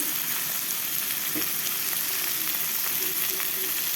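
Chopped tomato hits onions frying in a pan, giving a steady, close sizzle and crackle with no break and a faint scrape of stirring, and nobody talking over it.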